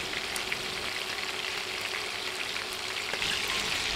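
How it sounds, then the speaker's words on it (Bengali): Chicken pieces fry lightly in hot oil in a pan, giving a close, steady crackling sizzle with scattered small pops throughout. "সবগুলো মাংসের পিস তেলে দিয়ে ভাজতে হবে, বেশি কড়া করে ভাজা যাবে না।"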